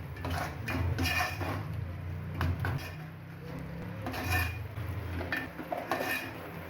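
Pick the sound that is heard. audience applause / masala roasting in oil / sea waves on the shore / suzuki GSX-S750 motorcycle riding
masala roasting in oil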